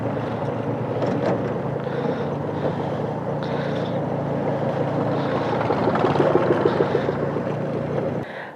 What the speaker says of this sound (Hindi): पर स्कूटी का इंजन बंद हो जा रहा है यहाँ पे, खुद ही ऑक्सीजन कम है